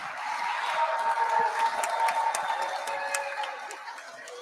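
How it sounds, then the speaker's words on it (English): Audience applause at a web3 and crypto talent event, a dense crowd clapping mixed with cheering and murmuring chatter, swelling and then gradually thinning out. "he needs a big applause"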